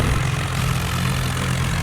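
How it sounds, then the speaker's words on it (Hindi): Tractor engine revving at full throttle while dragging slowly, a steady low, droning rumble with a constant hum and no variation across the stretch, heard alone without talk. "ट्रैक्टर को फुल एक्सेल करने के बाद भी ये धीरे धीरे चल रहा है"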